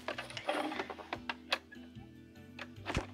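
A sewing machine stitches a 1/4 inch seam along a folded t-shirt edge, giving short clicky bursts of needle ticking with brief pauses, close and moderately quiet, with no voices.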